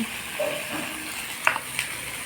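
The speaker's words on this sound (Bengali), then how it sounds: "আমি এবার পিঠাগুলোকে কড়াই মধ্যে দিয়েছি এগুলোকে ভেজে নেব" Pithas frying in a kadai, a soft low sizzle with a couple of brief clinks or taps from handling, close but fairly quiet.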